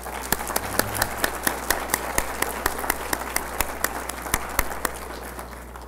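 An audience applauds a speaker being welcomed to a diversity lecture, with steady overlapping claps and sharp individual hand slaps standing out, sustained for several seconds without talk.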